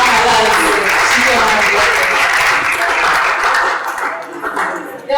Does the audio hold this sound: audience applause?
yes